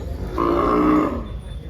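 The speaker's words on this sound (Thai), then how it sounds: "ตอนนี้ลูกผลงานของเจ้าโอริโอนะคะ ซึ่งเป็น วัวพ่อพันธุ์ของ คอกข้างถนน" A single drawn-out cow moo sounds close and loud in the middle of the moment at a Thai cattle show, with a stud bull's offspring on display, and low background murmur before and after.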